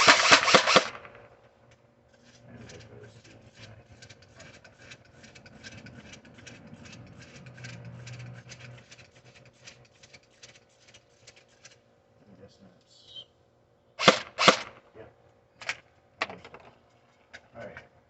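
Umarex MP5SD airsoft gun firing: a quick burst at the start, a stretch of rapid mechanical clatter, then several sharp separate shots near the end, all close and loud against a quiet background.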